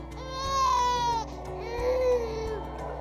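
An infant cries in a SNOO smart bassinet, two drawn-out wailing cries one after another over a steady low hum of soothing sound.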